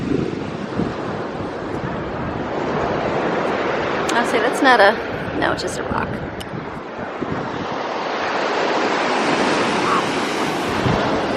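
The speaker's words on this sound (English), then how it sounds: "Let's go walk the beach." Ocean waves break and wash continuously onto a Florida beach, a loud broadband roar that swells and recedes, with people talking nearby over the surf partway through.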